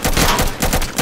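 Loud, rapid bursts of automatic gunfire in a shooter video game, close and dense with brief gaps between volleys.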